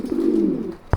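A single low coo from a pigeon comes from close by, followed by a quick knock at the end.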